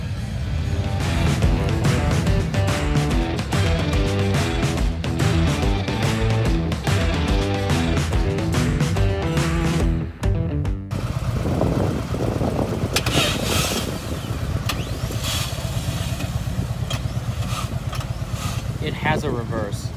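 A group of Harley-Davidson motorcycles rumbles in at a German roadshow, a dense loud mix of engines revving and idling close by, with a voice talking over the noise.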